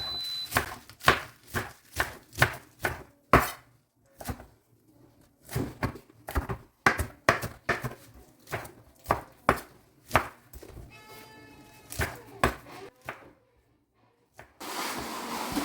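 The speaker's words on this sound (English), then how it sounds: "And some spinach. I'm just going to chop it a little bit." A knife chopping spinach on a cutting board, with a series of crisp, fairly regular thunks in quick bursts separated by short pauses, close up and with no talk.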